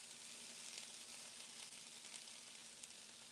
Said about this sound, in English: you're starting to hear a little bit of sizzle